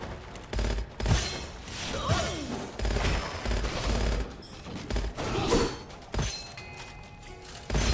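Gunfire from a weapon in the shooter game Gunfire Reborn, repeated bursts and thuds running through most of the stretch at moderate loudness with scattered game effects.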